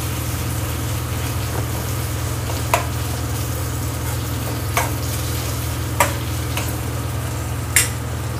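Curry leaves dropped into hot oil while dry chicken is cooked sizzle steadily in the pan, with a low steady hum underneath and a few sharp clicks of stirring scattered through.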